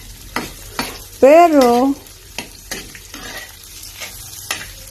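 Garlic and onion sauté in a pan for Filipino ginisang repolyo with pork, a light continuous sizzle punctuated by regular spatula scrapes and taps, close by, with a short spoken word in the middle.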